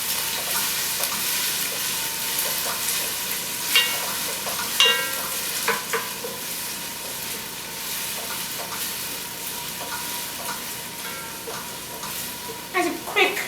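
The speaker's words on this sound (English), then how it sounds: "I'm going to stir this." Garlic fries in a pan with a steady sizzle while a spoon stirs it, scraping and clicking at intervals over the continuous hiss.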